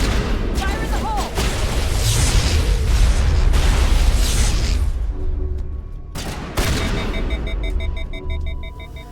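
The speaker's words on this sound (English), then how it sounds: "Oh, she also threw a grenade." A grenade goes off in a Mass Effect firefight with a deep boom, surrounded by gunfire and combat noise, while voices talk over the action before a sudden cutoff into quieter ambience.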